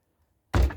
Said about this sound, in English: gonna shut this door